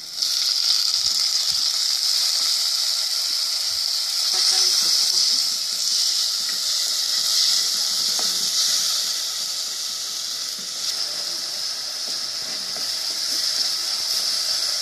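Onion and tomato masala for an ooli fish curry frying in oil, giving a steady bright hiss that carries on without a break under faint background noise, with no clear talk over it.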